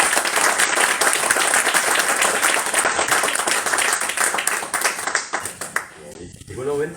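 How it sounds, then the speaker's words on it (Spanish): Audience applause at a Spanish-language book launch in a bookstore, a steady wash of many hands clapping for several seconds, thinning toward the end as a voice begins to speak. "Te despido un aplauso también."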